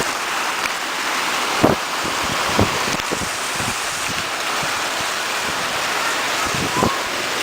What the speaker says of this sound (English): We have very strong winds.